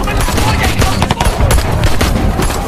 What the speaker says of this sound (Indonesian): Di sini terjadi baku tembak antara polisi dengan para gangster di sana.